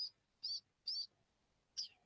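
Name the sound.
long-tailed shrike territorial call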